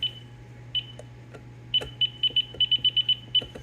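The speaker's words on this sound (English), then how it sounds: "lots of beeping until I get to the 1 minute 30 point" Kitchen timer being set, giving a run of short, sharp electronic beeps, sparse at first and then quickly repeated in a rapid string, heard alone over a low steady hum.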